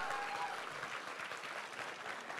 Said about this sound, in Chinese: 来，我们掌声鼓励一下。